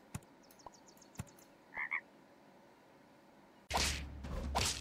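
Croaking of a frog in a video game, heard as a couple of short mid-pitched croaks in a quiet stretch, followed by a louder, broadband burst of game noise toward the end.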